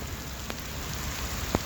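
Steady rain falling on a wet outdoor surface on a grey UK day, a constant soft hiss with a couple of heavier drips standing out, no voices.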